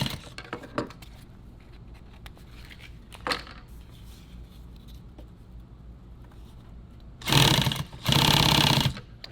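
A sewing machine stitches nylon tactical gear in two loud, close bursts of rapid stitching, after a few brief clicks and handling noises.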